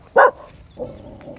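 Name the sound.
dog barking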